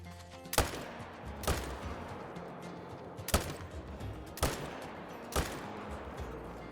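Rifle fire at a tiger in the hunting game Call of the Wild: five sharp, loud single shots spaced about a second apart over a steady background hiss, with no talking.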